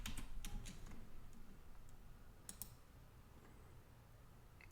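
A command is typed on a computer keyboard while playing EverQuest, a few quick faint key clicks at the start and again midway over a low background hum.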